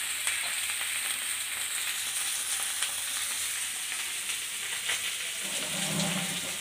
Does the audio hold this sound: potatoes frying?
yes